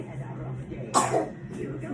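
A child coughs once, sharp and close, in an otherwise quiet room.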